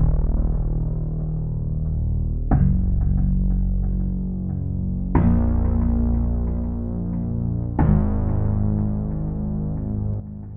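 Zouk, Kizomba and Afrobeats synth beat built in Logic Pro X, pairing an analog lead with added bass for weight in the low end; sustained tonal layers with a strong bottom, renewed by a sharp attack roughly every two and a half seconds, no voices.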